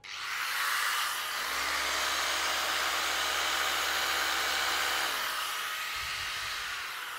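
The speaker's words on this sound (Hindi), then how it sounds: "इसी के साथ इस ग्राइंडर को भी चलाकर दिखा देते हैं" A Hilti rotary hammer and an angle grinder running on power from a 3000 VA MPPT solar inverter: a loud, steady motor whine with broadband hiss that holds for about five seconds, then spins down into background noise.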